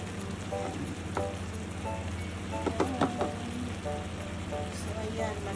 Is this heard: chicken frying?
yes